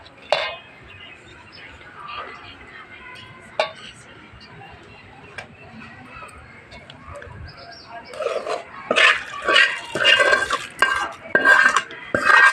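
Drumstick pickle is stirred together with tempered oil in a bowl. Quiet scraping and clinking at first grow into louder, busier mixing noises toward the end.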